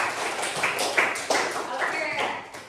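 Students in a classroom clap together for two groups, a brief burst of close, uneven hand claps with a few sharper individual claps standing out.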